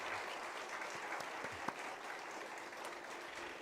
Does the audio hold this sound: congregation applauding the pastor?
yes